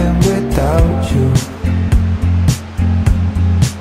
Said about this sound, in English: You can see the waves are out of control.